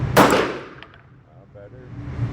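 A single sharp shot from a Bul Armory SAS II Tac Commander stainless steel .45 ACP pistol at an outdoor range, loud and close, followed by a brief metallic clang and fading ring.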